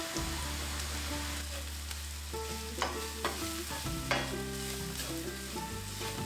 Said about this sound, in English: Saute for a minute, then add the spices.